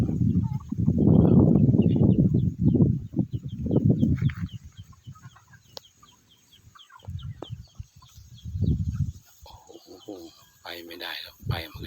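Junglefowl and domestic chickens in a forest, with repeated clucks and calls near and far, while someone talks over much of it.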